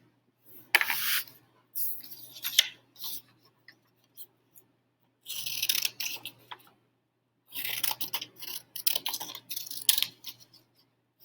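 Scissors trim a small sheet of paper at a crafting desk, giving short bursts of crisp snipping and rustling separated by quiet pauses.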